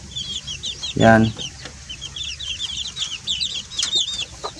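Backyard chicks raised as breeding stock peep and chirp in a steady, busy chatter, with one loud, low cluck near the start and a few sharper calls later, all close by.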